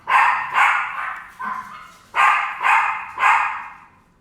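Dogs at home bark as the owner's husband arrives: several loud, sharp barks in uneven bursts, spaced roughly half a second apart with brief pauses, close by and without any talk.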